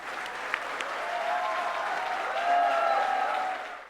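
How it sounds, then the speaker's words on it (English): An audience gives Shah Rukh a round of applause at an event, steady clapping that swells slightly midway and then tapers off near the end, moderately distant and without talk. "please join me in giving Shah Rukh a resounding round of applause"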